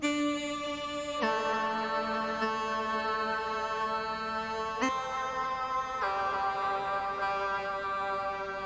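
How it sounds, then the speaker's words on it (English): Sustained synth chords with a robotic vocoder voice singing the melody layered on top, shifting through a few chord changes at a steady, even level. "And I also did some vocoder along with this synth."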